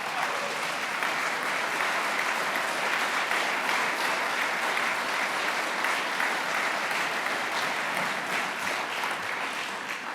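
Awards ceremony audience applauding an honoree asked to stand, a dense, steady roar of clapping from a large room that holds at full strength for about ten seconds before easing slightly at the end.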